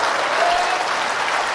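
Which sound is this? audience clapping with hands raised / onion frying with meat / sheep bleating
audience clapping with hands raised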